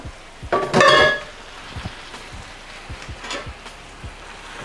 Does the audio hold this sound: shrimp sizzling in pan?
yes